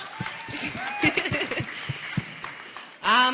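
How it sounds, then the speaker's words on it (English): Audience applause at an Africa Awareness Week closing ceremony, scattered clapping mixed with chuckles and voices in the crowd, fairly loud, with a burst of noise near the end. "let's also give a round of applause to the people who just joined us"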